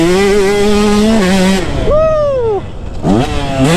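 A loud, close KTM 150 SX dirt bike engine revs and climbs in pitch, drops off briefly, then winds up again with a sharp buzzing whine.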